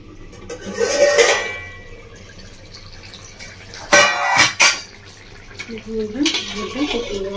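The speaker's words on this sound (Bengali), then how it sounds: "ঢাকাটা খুলে আবার ভেজে নিচ্ছি" A pan lid clatters off and bata fish curry fries in a Bengali village-style kitchen, with sharp metallic knocks and scraping bursts over a low sizzle and a brief voice near the end.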